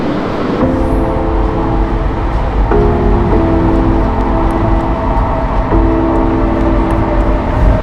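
Steady low rumble of a moving train out of Chengdu, China, with a droning hum that shifts pitch a few times, loud and continuous from start to finish.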